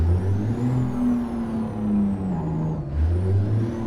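Mack truck engine with jake brake in American Truck Simulator, a throaty low rumble that rises and falls in pitch across several surges, fairly close, alone without speech.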